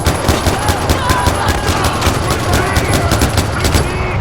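Rapid automatic gunfire in the video game Far Cry 4, a loud, close burst of overlapping shots in quick succession that continues throughout with little pause.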